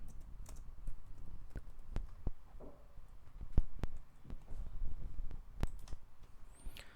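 Typing on a computer keyboard: sparse, irregular key clicks and a few sharper taps, close and quiet against a near-silent room.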